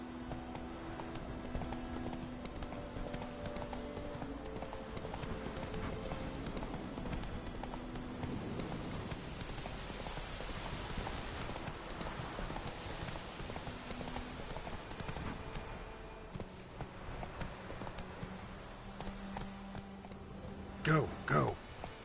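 Roach, Geralt's horse in The Witcher 3: Wild Hunt, runs in a steady stream of hoofbeats, with game music and ambience running throughout and a voice calling to the horse.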